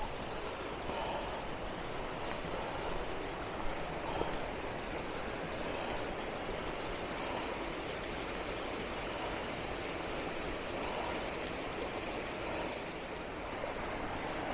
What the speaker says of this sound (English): I can see the waterfall up ahead now